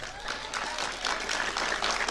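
Audience applause at a Tamil public speech, a steady wash of clapping throughout, moderately loud and fairly even, with no speech over it.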